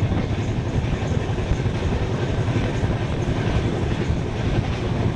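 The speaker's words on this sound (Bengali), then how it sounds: "আমাদের ট্রেন কিন্তু তার সম্পূর্ণ যে গতি রয়েছে সেই গতিতেই কিন্তু চলছে।" Digha–Howrah Tamralipta superfast express running at full speed around 130 km/h, a loud, dense, continuous rumble of wheels on rail heard from inside the coach, with no voices.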